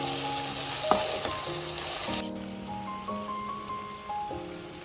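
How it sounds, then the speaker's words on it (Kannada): Tomatoes frying in a pan for a sprouted moong dal gravy give a steady, close sizzle with faint stirring, and a sustained musical tone runs alongside. "ಟೊಮೆಟೊ ಹಾಕ್ಕೊಂಡು ಕ್ಲೀನಾಗಿ ಚೆನ್ನಾಗಿ ಫ್ರೈ ಮಾಡಿ"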